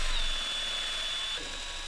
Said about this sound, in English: Don't drill any deeper than that.